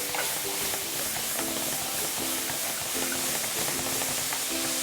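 Onions sautéing in a pan with a couple tablespoons of steak marinade, a steady sizzle and hiss broken by rhythmic stirring scrapes, close and continuous with no talking.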